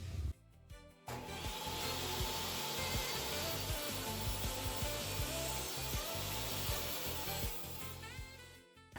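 A saw rips the factory edge off a wooden fence picket board, a loud, sustained cutting roar that runs steadily for several seconds up close, starting abruptly after a short pause and ending as the cut finishes.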